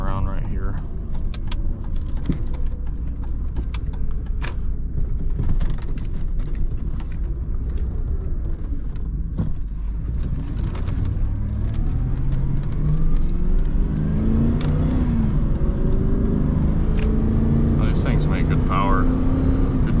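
A big 8.1-liter engine vehicle drones from inside the cab as it accelerates, a steady loud rumble that rises in pitch toward the end, with talking and rattles over it.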